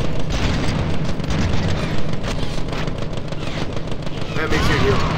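Gunfire in a Deadpool video game: loud, dense bursts of rapid shots and heavy booms running almost without a break, close and intense.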